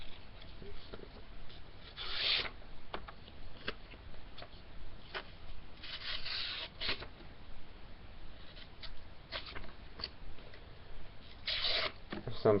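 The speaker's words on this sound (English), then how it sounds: "Right here, see, you have this paper. Goes straight through it, real easy." A Cold Steel Voyager XL folding knife slices through a sheet of paper with soft, scratchy rasps and brief sharper swishes, several strokes spread across the stretch over a faint steady background hiss, close and quiet.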